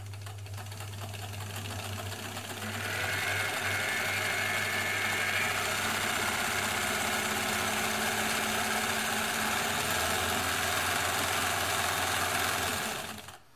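An ELNA Supermatic sewing machine runs a stretch stitch with the double-disc pattern mechanism engaged at stitch width 4, a steady close mechanical whir with a low hum that holds for most of the clip before stopping.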